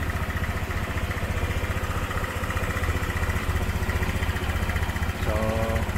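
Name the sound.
Honda Click 150 scooter engine idling after throttle body reinstall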